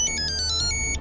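Phone ringtone ringing in a crime drama: a steady, bright electronic pattern of quick repeated tones, clear and close, with no one speaking.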